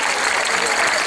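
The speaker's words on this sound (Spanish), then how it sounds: "Un aplauso por esta colaboración." Audience applause at a folk music festival for world peace, a steady dense wash of clapping from a crowd, loud and continuous through the short burst with no voice on top.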